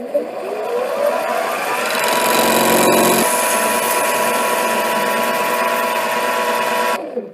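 A metal lathe takes a 20-thousandths-deep facing cut on a part held in a 4-jaw chuck, a loud, steady whirring with a changing pitch that holds for several seconds before cutting off sharply.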